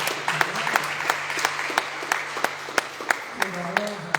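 Congregation applauding during a Sunday church service: steady, dense clapping from a crowd fills the room, with sharper individual claps standing out and a faint sustained tone underneath.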